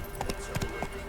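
Hoofbeats from Roach, Geralt's horse, galloping in The Witcher 3: a few quick, moderately loud clops spread over about a second, sitting over a steady game ambience.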